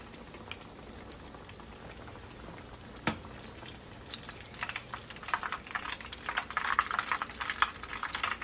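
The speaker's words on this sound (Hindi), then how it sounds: "हम एग में कोट करके शामी कबाब फ्राई कर रहे हैं।" Egg-coated shami kababs fry in a pan with a faint crackling sizzle that starts sparse and quiet, then grows denser and livelier toward the end, with one sharp tap partway through.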